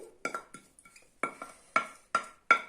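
Quinoa stuffing with spinach, parsley and coriander being stirred in a bowl, with a series of sharp utensil clinks and scrapes coming in irregular bursts, close and fairly quiet.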